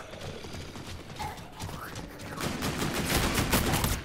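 Guns fire in an Infinite Warfare zombies match, with a pistol among the weapons, in a dense, continuous burst of game shots that grows louder and busier toward the end over a muffled background.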